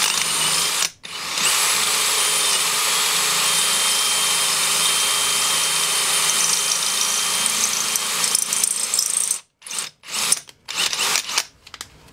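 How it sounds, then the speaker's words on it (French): Close-up power drill grinding steadily into metal for a long stretch, then a few short stop-and-start bursts at the end; drilling a Peugeot rear wheel hub carrier to fit Helicoil thread inserts. "Il faut surtout garder que la perceuse bien droite."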